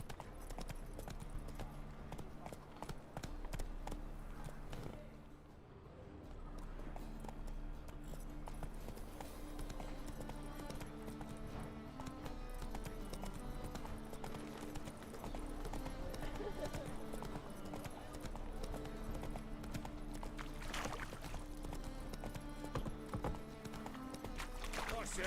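A horse gallops in The Witcher 3, its hooves a steady clip-clop under game music, with talk heard in places.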